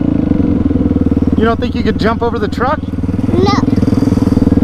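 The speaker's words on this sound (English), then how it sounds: "You're old enough to ride a motorcycle without training wheels." A child's small motorcycle engine drones steadily and close throughout, while an adult and someone talk over it.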